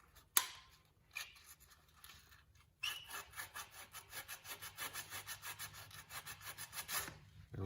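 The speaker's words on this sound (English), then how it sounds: "And then we'll go to the other side and do some sanding also." After a few scattered scrapes and a knock, close rapid strokes of sandpaper rub back and forth on wood in an even rhythm.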